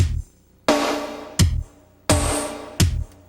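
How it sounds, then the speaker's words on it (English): Drum track sequenced in Opcode Vision in 1996, played back quantized to quarter notes: loud, evenly spaced kick and snare hits with cymbal wash, about four strikes in three seconds, alone without talk. "If I turn Play Quantize to, let's say, quarter notes, our drum track sounds like this."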